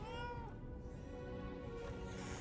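A cat in the video game Lies of P gives a single drawn-out meow, loud and close, with no talk over it.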